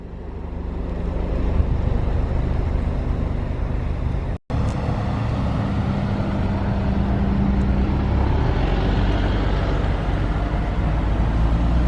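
A 2019 Alfa Romeo Giulia Ti Sport pulls out of a dealership showroom, with a steady, fairly loud engine and road rumble that runs continuously except for a brief dropout near the middle.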